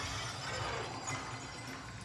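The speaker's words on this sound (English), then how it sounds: "You won't just hear glass break." Glass shattering, played back through a Polk Audio Signa S4 ultra-slim sound bar with wireless subwoofer: a dense, sustained crash of breaking glass lasting about two seconds at moderate loudness, with no voices.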